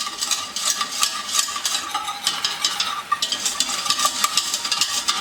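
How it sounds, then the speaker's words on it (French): A whisk stirs flour into melted butter for a blond roux in a pan, making a steady scraping swish with light sizzling underneath, close and continuous, with no talking. "En une fois, on mélange à la farine."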